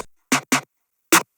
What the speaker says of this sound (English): We distorted the snare and it sounds like this.